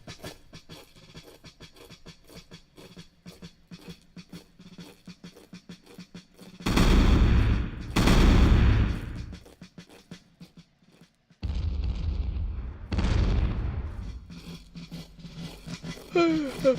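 Howitzer artillery and gunfire in a video game battle: heavy booming blasts in several bursts, with softer crackling shots between them, loud and close, and a commentator talking at the start.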